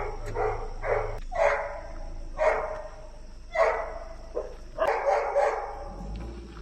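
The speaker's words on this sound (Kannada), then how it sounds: "ಗೆಳೆಯ ಅಂತೂ ಸಿಕ್ಕಾಪಟ್ಟೆ ಬೊಗಳ್ತಾವನೆ" A dog barks excitedly outdoors as people leave after a temple visit, letting out repeated loud bursts at a moderate distance, mostly alone with no talk.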